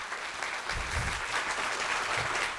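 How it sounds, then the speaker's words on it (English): Audience applause for five finalists at a civics competition hosted by a county chamber of commerce, a steady burst of clapping with a few scattered low thumps, fairly close. "let's give a round of applause to our 5 finalists."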